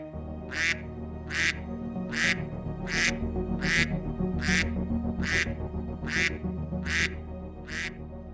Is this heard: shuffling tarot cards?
no